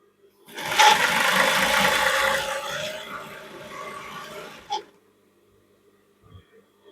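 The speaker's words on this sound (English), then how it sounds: "let me just sew the zigzag for you" Brother LZ2 B854 sewing machine running a zigzag stitch, a steady close mechanical whir lasting about four seconds, then stopping into near silence with a faint click.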